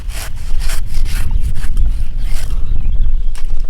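A blade scrapes and shaves the trunk of a date palm tree in rapid, rough strokes, loud and close with a gritty rasping rhythm.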